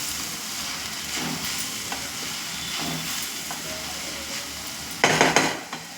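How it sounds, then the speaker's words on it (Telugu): Jackfruit peel curry with turmeric and coriander powder stirred in a pan, a spoon scraping and clinking against the metal at intervals over a low sizzle, with one louder clatter near the end. "కొంచెం ధనియాల పౌడరు, వేసుకొని బాగా మిక్స్ చేసుకోవాలండి."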